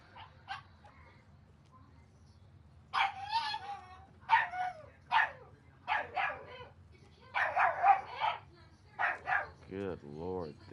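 A dog in Red Dead Online barks repeatedly, a string of sharp, fairly close bursts with short gaps and a whining yip near the end, partly mixed with talk.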